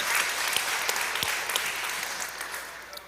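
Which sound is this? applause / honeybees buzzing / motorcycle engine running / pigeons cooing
applause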